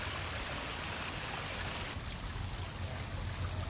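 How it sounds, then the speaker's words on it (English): Water runs steadily through a pondless waterfall under construction beside a decking sit-down area, a dense, even splashing rush that stays constant throughout. "the water continues to run"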